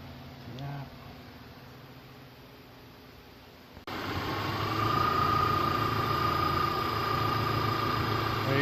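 2006 Subaru engine started and idling after repair work on the exhaust and engine mounts, a steady near hum with a thin whine that kicks in halfway, following a quiet stretch with faint voice.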